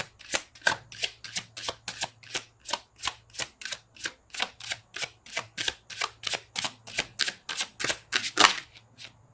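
Tarot cards being shuffled close up, a long run of about two dozen crisp, evenly spaced slaps and riffles in a steady rhythm, with no talking.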